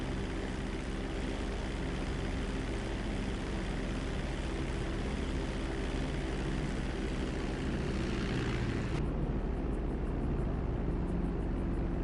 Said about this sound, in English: Let's take the Cuban 800 out for a little fly.